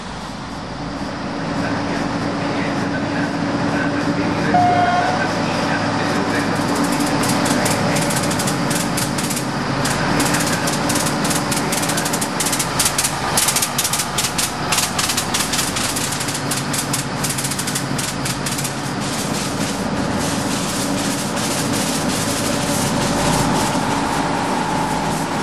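An Italian ALn 668 diesel railcar of the 3100 series from the early 1980s, powered by four supercharged Iveco 8217.32 engines, drones loudly and steadily for a long stretch, with rapid rattling clatter building as it runs.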